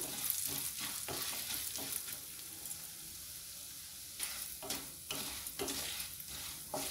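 Small dry coconut pieces frying in a pan for cumin-pepper chitranna, with a close, continuous sizzle broken by repeated scraping stirs, fairly quiet and with no talking.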